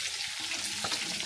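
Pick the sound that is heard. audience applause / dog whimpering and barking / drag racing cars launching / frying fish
frying fish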